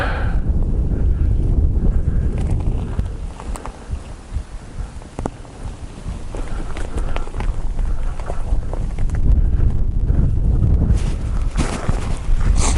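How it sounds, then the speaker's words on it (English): Wind gusts buffet a campsite on a volcano, roaring and rumbling close against the microphone in uneven surges that swell and ease over several seconds, with no voices present. "The wind's kind of blowing this way"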